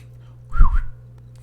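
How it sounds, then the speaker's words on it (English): A single short whistle, a rising-then-falling pitch glide lasting about a third of a second, sounds loud and close against a quiet background hum. "I'm gonna whistle for ninja meows"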